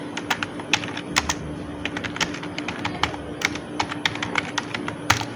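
Rapid typing on a computer keyboard, a dense irregular run of crisp close key clicks with no talk, while searching for Call of Duty Mobile in a Chinese Tencent app store.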